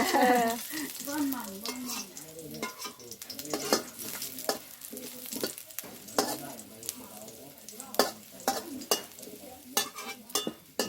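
Garlic stir-fried in a pan over a charcoal fire gives a steady sizzle, with repeated scraping and clanking of a utensil against the pan and occasional talk over the cooking.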